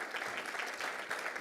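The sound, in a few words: audience applause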